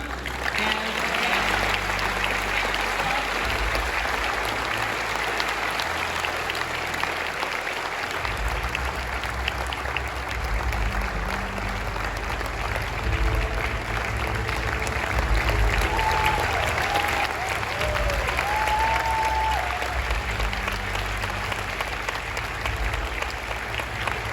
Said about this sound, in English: so again a big applause to all of them